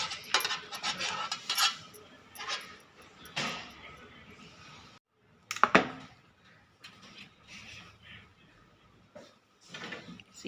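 A bowl clinks and knocks against other dishes in a kitchen while coconut chocolate balls are prepared, with several sharp ceramic taps and clatters spread through the stretch and brief pauses between handling.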